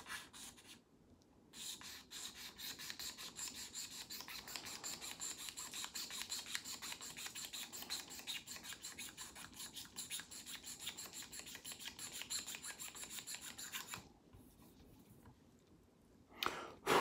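Steady, close rasping strokes of a guitar fretboard being scraped, continuing evenly for about twelve seconds before stopping, with a brief pause near the start and a soft bump at the end.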